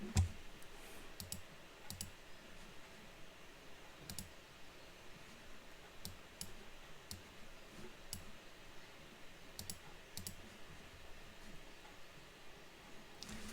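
Rapid computer keyboard typing and mouse clicks tap along steadily at close range, with scattered sharper clicks standing out above a low room hum; no one speaks.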